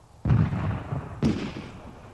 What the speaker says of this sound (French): Les deux camps tirèrent chacun un boulet de canon.